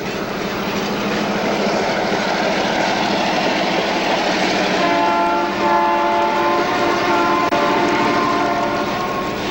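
Newfoundland Railway freight train Extra 944 rumbles steadily past, loud and continuous, with its horn sounding in long sustained tones over the rolling rail noise.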